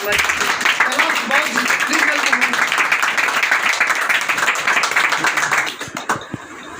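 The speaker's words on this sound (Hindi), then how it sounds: "ये जोरदार तालियों के साथ" An audience at an RCM business home meeting claps loudly for close to six seconds in a dense, steady wash, then the sound thins and drops off near the end.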